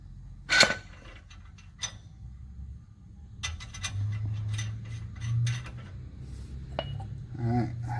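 Nuts being threaded by hand onto a Ford Transit ball joint during replacement, giving several small metallic clicks, scrapes and light ratcheting taps, close and intermittent, with a brief louder clink early on.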